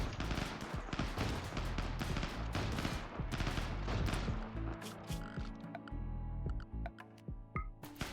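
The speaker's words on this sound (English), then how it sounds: "Take aim and fire." Colonists in a video game fire their weapons in a dense, crackling fusillade of rapid overlapping gunshots that thins into scattered shots and ticks toward the end.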